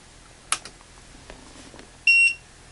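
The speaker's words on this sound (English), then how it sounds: "Oh my goodness, the beeping sound is ear piercing." A Wanptek APS1602H 0-160V bench power supply switching on, with a click and a short burst of activity followed by one loud, piercing, steady electronic beep lasting about a quarter second, close and alone.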